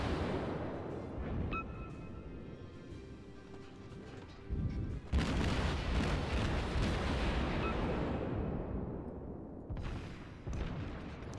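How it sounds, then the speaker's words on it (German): Naval artillery salvos from a warship in World of Warships, deep booming blasts with rumbling tails, one big volley midway and another near the end over continuous engine and ambient noise. "Aber jetzt kommen die Schüsse ganz gut."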